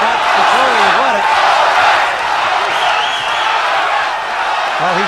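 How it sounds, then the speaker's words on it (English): A boxing arena crowd chants the fighter's name Odum in a loud, sustained roar during the Ruddock vs Odum bout, with cheering swelling and fading across the clip. "They're chanting Odum, Odum."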